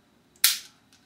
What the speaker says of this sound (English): At this point he's shooting.